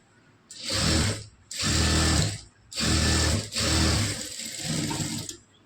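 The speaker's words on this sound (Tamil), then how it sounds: "இப்போ இதையும் வந்து ஒரு அமுக்கு தையல் போட்டுக்கலாம்." A sewing machine runs a press stitch on a blouse in four loud, close bursts of whirring, rattling mechanical stitching, split by short pauses, with no talking.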